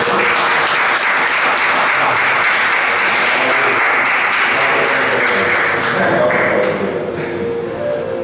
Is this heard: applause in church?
yes